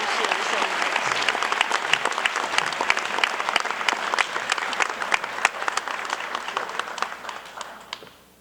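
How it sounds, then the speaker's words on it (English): An audience at a high school honors night claps for a Spirit of the Grizzly award winner, a steady wash of many hands sustained for about seven seconds before tapering off, with no voices over it. "Please join me in a round of applause to once again congratulate Jillian Fulton, Spirit of the Grizzly winner."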